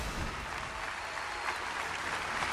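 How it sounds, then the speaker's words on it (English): An audience claps steadily throughout, a dense, even wash of many hands at moderate volume with no voices over it. "You guys are clapping, but you should have seen the interview."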